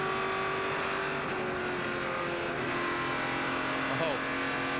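Onboard Bill Elliott's stock car at the 2002 Daytona 500, a steady, droning high-revving engine holds a constant roar with a brief pitch sweep near the end, under commentators talking.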